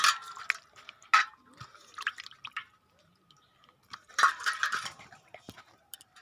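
Rinse water is tipped out of a vessel in separate splashy bursts and drips, loud splashes broken by quiet gaps, with a little background voice.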